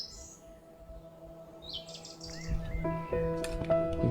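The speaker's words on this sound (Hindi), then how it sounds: "चिड़ियों की आवाज़ भी" Several birds chirp and trill in a Himalayan forest near the treeline on the Roopkund trek, high twittering calls overlapping and growing busier, with a faint steady hum underneath.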